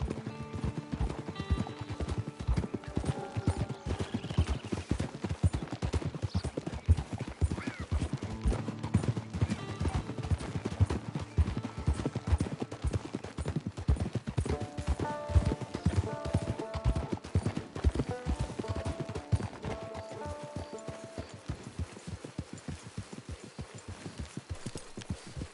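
Horse hooves clip-clop steadily in Red Dead Redemption 2, a continuous rhythmic patter of footfalls over a low ambient bed for nearly half a minute, with faint tonal game music creeping in later and an occasional whinny.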